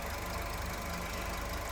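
Steady, quiet idle of a Mitsubishi Eclipse Cross 1.5 petrol engine with automatic gearbox, a continuous even hum with no talking.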